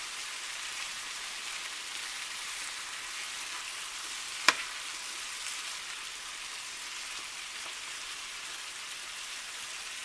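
A two-pound bag of mixed vegetables sizzles in a pan for shepherd's pie, a steady crackling hiss throughout, with one sharp clink partway through.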